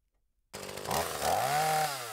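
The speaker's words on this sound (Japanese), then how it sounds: "チェーンソーの巧みな技が決め手となる馬作り。" A chainsaw cuts logs to build the frame of a traditional river fish weir for catching ayu in Japan. It starts abruptly and runs loud and steady, its pitch climbing as the engine revs under load. No one speaks.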